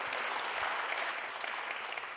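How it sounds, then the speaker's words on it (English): Audience applause at a workshop on cancer and employment, a brief, even wash of clapping from a seated crowd, moderately distant. "Can be applause."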